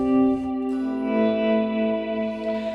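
Clean electric guitar through a pedalboard effects switcher, drenched in lush reverb with sustained chords ringing and blooming steadily, close and loud, no voices.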